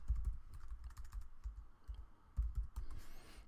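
Close computer keyboard typing in a quick burst of clicks, then a brief pause and another short flurry of keystrokes, heard alone.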